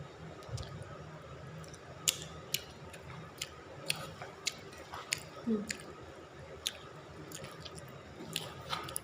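Close, quiet chewing and tasting of mak mi jackfruit soup, a string of small wet clicks and smacks spaced irregularly over a low background hiss.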